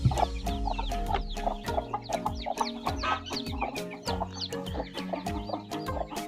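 Several hens in a home coop with newly hatched chicks cluck continuously at close range, a dense, busy layer of overlapping calls throughout, with no voices.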